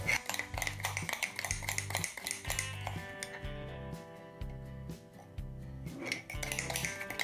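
A spoon beats instant coffee and sugar in a cup for cappuccino, a brisk rhythmic clinking and scraping against the vessel that keeps up a steady beat throughout, close and with no talk.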